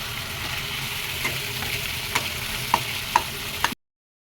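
Spice masala with a splash of water fries in oil for a fish curry, a close, steady sizzle broken by several sharp scraping stirs before cutting off abruptly near the end.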